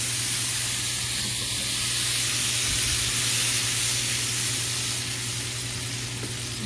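Butter, garlic and shrimp fry in a pan for a tortellini dinner, giving a steady, even sizzle that holds at a constant level throughout, with a low hum underneath and no voices.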